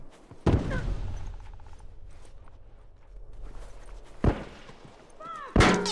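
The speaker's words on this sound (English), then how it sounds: "it's gunfire from every fucking direction" Gunshots in an online multiplayer match of The Last of Us Factions: a few sharp, separated bursts over quiet background ambience.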